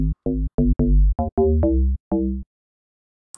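A deep synthesized deep house bass with global phase enabled in FL Studio plays a series of short and sustained notes in an uneven rhythm, each with a bright buzzy attack, then stops.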